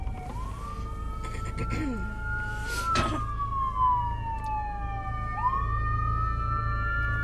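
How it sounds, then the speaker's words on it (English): A wailing ambulance siren sweeps up and down in pitch as it passes over steady low traffic rumble, sustained and fairly close, with brief bursts of other noise mixed in. "that's an ambulance"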